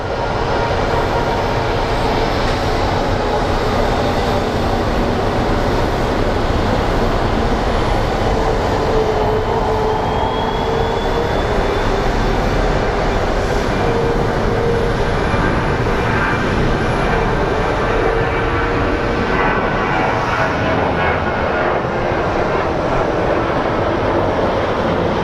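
A jet airliner departs from the runway at Phoenix Sky Harbor International Airport, a continuous loud broadband roar that persists throughout with no voices.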